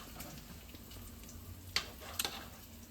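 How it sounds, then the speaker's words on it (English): Bacon and onions sizzle in a pan with a low, steady frying hiss, broken by a couple of faint sharp pops or utensil taps near the end. "I'm just going to let my bacon and onions render out and cook"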